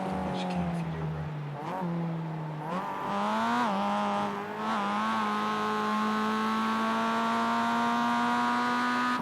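Mazda MX-5 race car on the Charlotte Roval circuit, its engine droning steadily and climbing in pitch through the gears after a few quick lift-offs, loud and close as from onboard.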